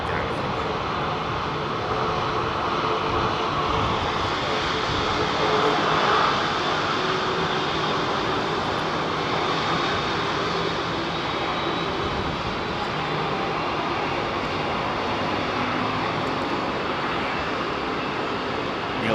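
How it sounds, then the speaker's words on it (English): An Emirates Airbus A380 touches down at London Heathrow, its engines producing a steady broad roar at a distance that holds throughout, with faint voices underneath. "Get that Emirates 380 touching down"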